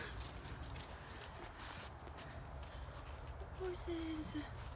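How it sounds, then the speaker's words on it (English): Horses walking on a muddy hiking trail, soft clip-clop hoofbeats at moderate distance under steady outdoor background noise, with a faint bird-like tone near the end and no clear talking. "Horses."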